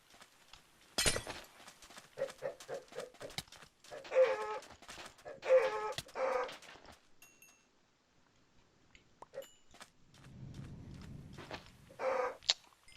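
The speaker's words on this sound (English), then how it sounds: "Chicken behind me." A chicken in the video game Minecraft clucks in several short bursts separated by quiet gaps, fairly close and with no talking.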